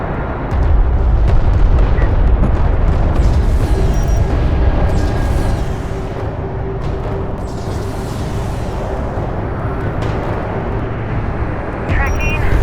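Orbital weapon strike in Homeworld: Deserts of Kharak, a loud heavy rumbling explosion that roars for several seconds and slowly settles into a lower rumble, with a voice speaking over it.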